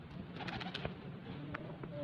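Breeder pigeons coo in their loft, a soft rolling chorus of several birds nearby, with a few brief sharper calls and light movement sounds.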